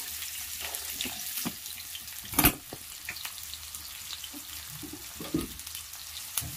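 Two medium onions, thinly sliced, fry in hot oil for chicken dum biryani, giving a soft, steady crackle with a sharper burst of sizzling and clatter midway and another toward the end; no one speaks.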